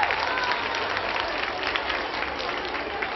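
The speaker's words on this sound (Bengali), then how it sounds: "আমরা কি হাততালি দিতে পারবো না?" Audience applause at a school reunion gathering, a dense, steady wash of many hands clapping throughout, loud and sustained without pause.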